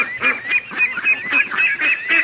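A duck gives a rapid series of loud, close, nasal honks in an uneven rhythm, with no voices over the calls.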